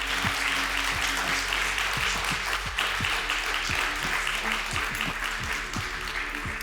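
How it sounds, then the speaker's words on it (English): Crowd applause at a demoparty awards gala, loud and sustained clapping from a large audience with some sharper individual claps standing out, continuing evenly throughout. "Please give them a huge applause."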